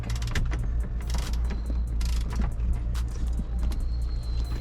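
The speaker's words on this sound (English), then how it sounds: "This is called a ratchet." Ratchet turning to loosen a bolt on a Lumina SS, with a run of rapid clicking bursts up close over a steady low mechanical hum and no talking.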